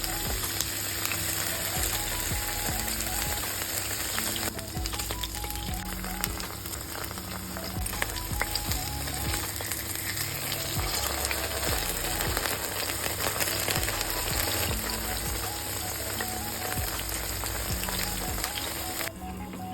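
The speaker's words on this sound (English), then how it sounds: "we fry our firm tofu slices" Firm tofu slices sizzle and crackle steadily in a hot pan of oil, a loud, continuous frying hiss with faint background music underneath.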